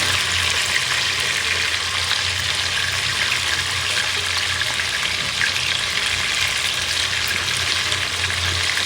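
Fish sizzles in oil in a pan, a dense, steady crackling hiss that runs unbroken at an even loudness from start to finish, heard up close with no speech.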